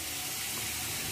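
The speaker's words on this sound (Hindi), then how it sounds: "अब हमें जितने पानी की आवश्यकता पड़ेगी हम उतने ही में पानी धीमे धीमे करके ऐड करेंगे।" Water trickles steadily into flour dough for bhature, a continuous soft pouring hiss with no voices.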